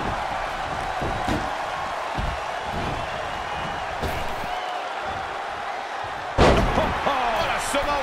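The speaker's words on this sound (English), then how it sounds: "What a Samoan drop." A heavy Samoan drop wrestling slam in the WWE 2K20 video game, one sharp loud impact late in the clip, preceded by a continuous roaring arena crowd and commentary talk.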